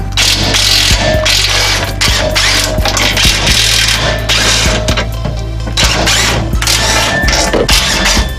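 A hand ratchet loosens the 10mm skid plate bolts under a 2017 Subaru Forester, making close, loud bursts of rapid clicking that start, stop and repeat throughout.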